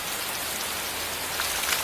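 Rain patters steadily through a tropical forest canopy onto leaves and bromeliads, a close, even wash of droplets with no voices.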